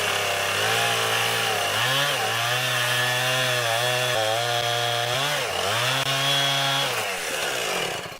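A chainsaw trims stubs off a log resting on a home-built sawmill loading deck, the engine droning loud and close, revving up and easing back through several cuts before winding down at the end.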